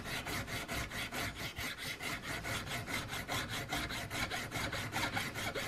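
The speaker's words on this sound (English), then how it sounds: "So is this filing here just getting kind of a final fit and finish on it?" A file works a brass patch box down to fit its wooden inlet on a flintlock muzzle-loading rifle, giving quick, evenly spaced rasping strokes in a steady back-and-forth rhythm, close and clear, with no voices.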